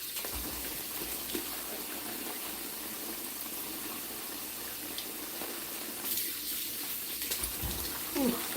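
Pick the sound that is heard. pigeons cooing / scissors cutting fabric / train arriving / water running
water running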